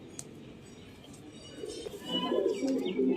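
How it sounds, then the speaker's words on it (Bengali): Pigeons kept for sale coo in a loft, the low cooing swelling louder in the second half over a soft steady background. "কিছু পায়রা আমি দেখাচ্ছি যদি পছন্দ হয় আপনারা দেখুন"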